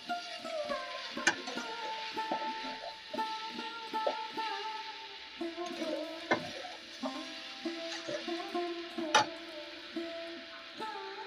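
Drumstick leaves stir-fry with grated coconut and peanuts in a pan, a quiet sizzle broken by repeated spatula scrapes and light metallic taps at an uneven pace, close up with no talking.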